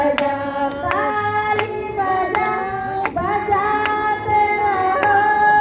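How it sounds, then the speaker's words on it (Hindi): People at a devotional gathering clap their hands in a steady rhythmic beat alongside singing voices and a tonal instrument, sounding close and moderately loud. "ताली बजाते रहो"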